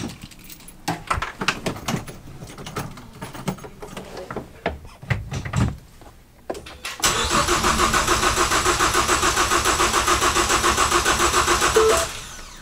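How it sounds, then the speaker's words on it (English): A Ford Focus ST engine with a rebuilt engine cranks over in uneven, stuttering bursts, then catches and runs at a steady, loud idle for several seconds before cutting off. "The engine's turning over."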